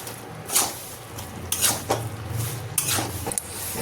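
Banda gobhi (cabbage) curry being stirred with sugar and chopped coriander, giving a few scraping, clattering strokes of a spoon against the pot with short pauses between them.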